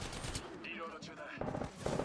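Enemy gunfire hits the player in Apex Legends, with rapid automatic shots crackling in short bursts, the loudest near the end, mixed with game effects.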